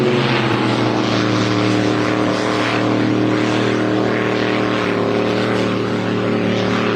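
Loud, sustained roar of powerful hydroplane racing boat engines droning continuously at full throttle during a Grand Prix heat on San Diego's bay, with no pauses.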